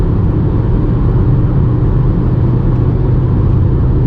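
Honda Civic FC on its stock air filter, engine droning steadily with a loud, constant low rumble through the cabin while driving at around four thousand rpm, no voices over it.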